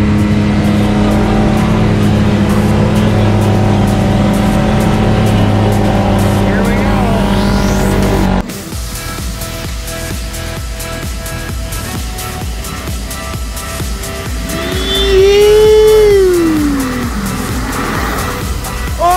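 A 2021 Can-Am X3 side-by-side fitted with an HMF Dual Titan exhaust drifts with loud tire squeal and revving engine, a sustained roar that shifts partway through, with people shouting over it.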